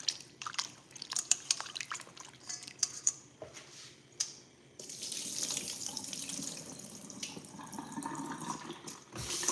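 Salted steak rinsed under running tap water: a few handling clicks and splashes at first, then a steady, close rush of water into the sink.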